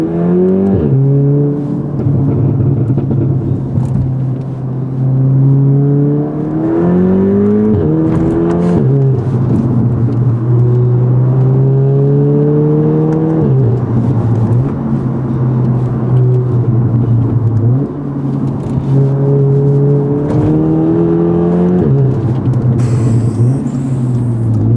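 Engine of a 400bhp Audi S3 pulling hard on a ride-along, loud and close from the cabin, with repeated rising revs and gear changes over about twenty-five seconds.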